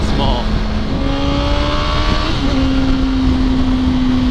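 A small motorcycle of about 300cc with a little rear tire rides past, its engine note rising and shifting as it passes close by over steady road and wind noise, with a voice talking briefly.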